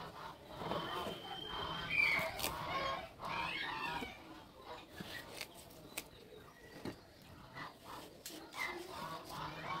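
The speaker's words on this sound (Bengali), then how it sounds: "সন্ধ্যা ঘনিয়ে আসার কারণে হাঁস, মুরগি, ছাগল সবাই জানান দিচ্ছে তাদের ঘরে ওঠার জন্য" Chickens, ducks and goats call on and off at dusk over a steady outdoor hum, with overlapping clucks and cries at varying distances.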